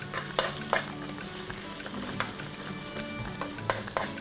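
Tomato paste fries on low heat in a wide pan for a Kenyan matoke stew, giving a steady close sizzle with soft crackles and a few sharper pops throughout, no voices.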